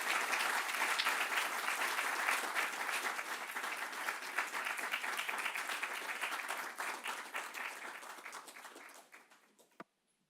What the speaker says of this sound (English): So a big round of applause for our opening session speakers